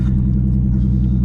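Turbocharged VR6 engine swapped into a B5 Audi A4 running with no hood or front bumper, a steady loud low rumble with a droning tone, heard close and alone.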